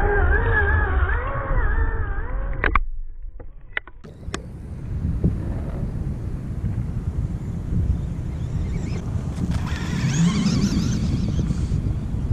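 Pro-Line Pro SC 2WD RC buggy driving outdoors at half throttle, a steady whining motor buzz that cuts out briefly, then a rougher rumbling run with wind noise over the microphone.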